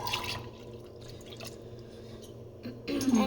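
An ingredient pours into a pot while making arroz con leche, a soft liquid trickle and drip sounds close by at low volume, swelling slightly at the end.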